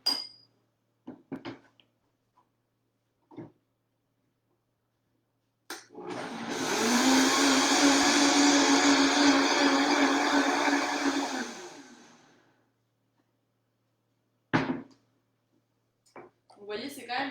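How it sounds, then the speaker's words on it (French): Blender mixing an herbal tea cocktail with maple syrup and freshly grated ginger: a loud, steady whir of about six seconds that winds down at the end, with someone speaking briefly before and after it. "Ensuite, je vais mettre le sirop d'érable. Voilà. Et on va mixer tout ça."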